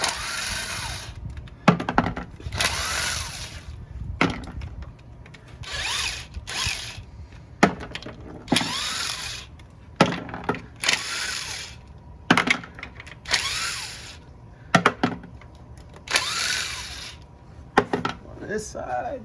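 A ratchet works bolts loose from an automatic transmission pan in repeated bursts of quick clicking, with someone talking in between and pauses between bolts.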